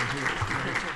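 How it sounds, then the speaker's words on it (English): Brief steady applause from an audience at a school district listening-tour meeting, moderately quiet and even throughout. "Let's give him a round of applause for his service in Stafford County Public Schools."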